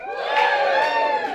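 A comedy-club audience at a stand-up night in a Hoxton pub cheers and whoops together in one loud burst lasting just over a second.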